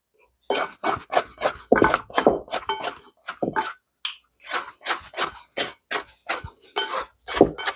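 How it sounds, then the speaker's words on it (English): A rounded scraper works sourdough dough down the sides of a mixing bowl, giving a run of close, irregular scraping and knocking strokes with brief clinks, in quick bursts with a short pause midway. "Scrape down the sides of the bowl."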